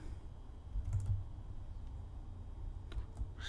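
Keys clatter on a computer keyboard as a terminal command is typed, a soft, close run of quick taps and clicks in short bursts over a quiet room, with no one speaking.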